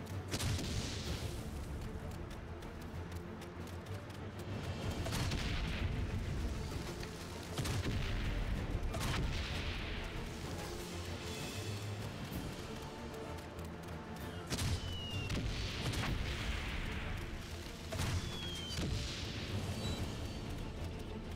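Repeated gunfire and booming artillery from the video game Valiant Hearts: The Great War, shots aimed at a building, dense thumps and bursts over a steady rumbling battlefield bed, moderately loud throughout.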